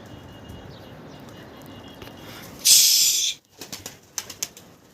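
Pigeons in a loft make soft background rustling, then a sudden loud burst of wing flapping lasts under a second, followed by several sharp clattering knocks and flutters close by.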